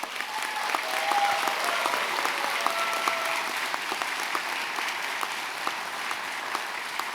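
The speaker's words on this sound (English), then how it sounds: "I was going to cue for applause," Graduation audience applause from friends and families at an executive MBA ceremony in San Francisco, a steady dense clapping that fills the whole stretch at even loudness, with faint voices or cheers mixed in.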